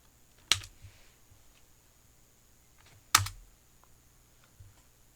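A couple of sharp keystrokes on a computer keyboard, spaced about two and a half seconds apart, faint and close, with a quieter tap near the end and no talking.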